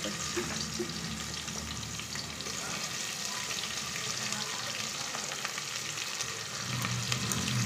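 Onions fry in a little oil for mutton curry, a steady close sizzle and crackle with occasional stirring scrapes, growing slightly louder toward the end.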